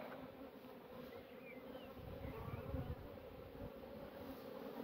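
Bees buzz around a strong beehive, a dense continuous drone that swells and fades slightly as they move close by, with soft indistinct sounds beneath.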